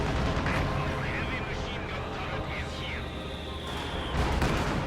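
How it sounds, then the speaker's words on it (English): Heavy artillery from a Soviet ISU-152 self-propelled gun shelling German Grenadier infantry in the real-time strategy game Company of Heroes, a dense rumbling barrage of booms and blasts under continuous battle noise, loud and close, with commentary talking over it. "that ISU-152 is also going to pound away at the Grenadiers here"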